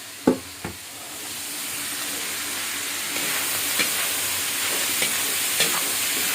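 Vegetables for pansit gisado are stir-fried in a hot pan, starting with a couple of sharp clatters as they go in and settling into a steady, close sizzle with occasional soft stirring knocks.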